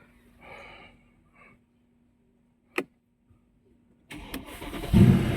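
A car push-started by a driver, the engine catching abruptly and roaring loud and close after a quiet stretch with a few faint knocks and a sharp click.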